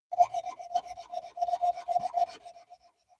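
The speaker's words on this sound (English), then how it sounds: "we'll go ahead and get into some wet sanding." A knife blade is wet sanded on 400-grit abrasive, making quick, rhythmic rasping strokes close to the microphone. The scrubbing repeats about a dozen times, then trails off into quieter rubs.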